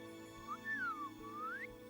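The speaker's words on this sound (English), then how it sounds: "that's not a good idea to be whistling up there at the lights" A person whistles outdoors at night at a lookout point under the northern lights, giving a few clear, rising and falling melodic glides over faint background ambience.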